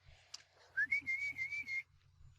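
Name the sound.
person whistling to call dogs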